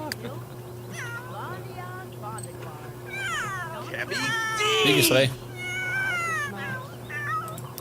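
A cat in The Sims 3 meows and caterwauls repeatedly with drawn-out, wavering cries, mixed with someone speaking and a steady background hum.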